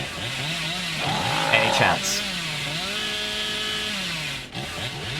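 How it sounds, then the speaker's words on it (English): The Hillbilly killer's chainsaw in Dead by Daylight revs and drones loudly, its pitch rising and falling through repeated surges, while someone briefly speaks over it. "Chainsaw."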